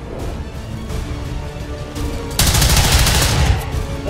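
Gunfire in the XCOM 2 video game: a steady stream of rapid shots that jumps into a louder, denser burst partway through, close and dominant, with no voices.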